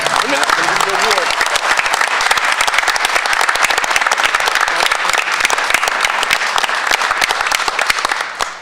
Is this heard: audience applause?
yes